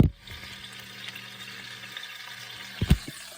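Steak frying in a pan, a soft continuous sizzle with a low hum, broken by a couple of brief louder clatters near the end.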